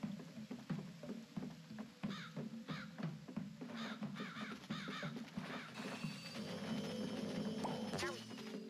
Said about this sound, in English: I feel like the birds are gonna try knocking me off.